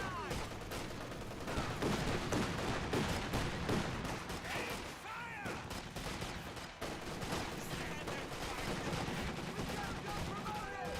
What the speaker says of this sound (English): MG34 suppressing the combat engineer there.